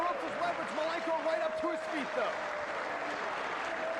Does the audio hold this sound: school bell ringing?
no